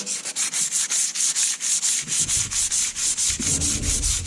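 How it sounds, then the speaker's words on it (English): Old gasket material being rubbed and sanded off the machined steel face of a Detroit Diesel 353T engine liner, a steady run of rhythmic back-and-forth scrubbing strokes, close and fairly loud, with no talking. "So I just kind of rub off any of the gasket material."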